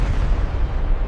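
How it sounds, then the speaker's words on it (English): An explosion effect for asteroid and comet impacts on early Earth gives a brief, loud, deep rumbling boom that holds steady for about a second. "A large number of asteroids and comets impacted the Earth's surface."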